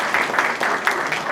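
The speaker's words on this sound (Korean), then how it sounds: "34회기에 승길 신임원들 인사드릴 때에 뜨거운 환영의 박수 부탁드리겠습니다." Audience applause welcoming new officers at a church men's association general assembly, a dense steady clatter of many hands clapping throughout.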